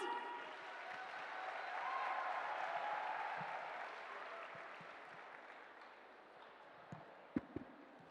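Audience applause at a talk by a chartered accountant, a soft, steady wash of clapping that swells and then thins out, fairly distant and muted, ending with a few isolated knocks.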